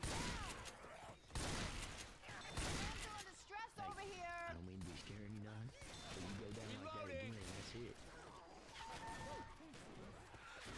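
Fireworks go off in Left 4 Dead 2 as a dense run of crackling bursts, bangs and whooshing rockets, busy and continuous, with game sounds and voices mixed in.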